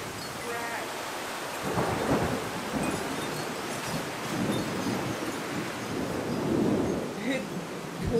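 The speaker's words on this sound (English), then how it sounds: "It's pouring!" Heavy summer rain pours down steadily in Florida while low thunder rumbles roll through repeatedly, a dense continuous wash of noise outdoors.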